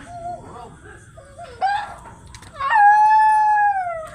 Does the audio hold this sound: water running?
no